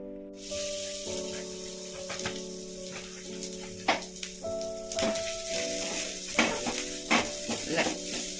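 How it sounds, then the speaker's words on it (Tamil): Grated coconut roasts in ghee in a pan, giving a soft sizzle with intermittent scraping stirs. The cooking sounds are fairly faint and sit under steady background music. "கொஞ்சம் நெய் விட்டு தேங்காய் வறுத்து எடுத்துக்கலாங்க"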